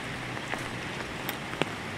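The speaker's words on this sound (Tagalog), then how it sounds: "Kahit na ulan." Rain falling on a trekking trail, a steady hiss of drops with a few sharper nearby splashes, no talking.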